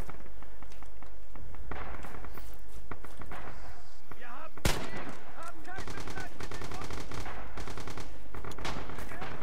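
Suppressing gunfire in the World War II shooter Red Orchestra 2, with sharp rifle and machine gun shots cracking around the player, one heavy close blast midway, and rapid bursts continuing after, over background game noise.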